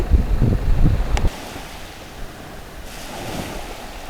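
Ocean surf at a beach on Koh Chang island, Thailand, in hot April weather: a loud low wash of waves and wind rumbling for the first second, then a softer, steady hiss of surf settling in.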